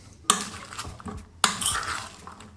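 A salad of couscous and pomegranate seeds is gently tossed in a bowl, giving two soft bursts of clinking and rustling mixing sounds, close and fairly quiet, with no talking.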